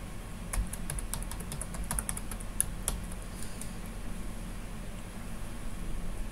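Fingers tap out a password on a desktop computer keyboard, a quick cluster of close, crisp key clicks in the first few seconds, then only faint room hiss.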